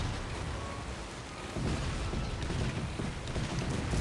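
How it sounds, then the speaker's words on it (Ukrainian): Heavy, continuous booming barrage of naval cannon fire in Cossacks 3, with rumbling low blasts layered over each other, loud and sustained throughout. "Настрілює він гарматами"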